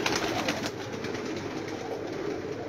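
Pigeons coo steadily at a rooftop loft of a pigeon keeper's flock, a soft continuous murmur of several birds close by, with no talk over it.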